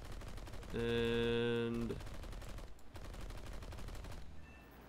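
Aircraft machine gun fire from a G.56 fighter in the War Thunder flight game, attacking a Lancaster bomber: rapid, dense bursts of gunfire under a steady engine drone and bright tonal cockpit sounds, with one brief word spoken.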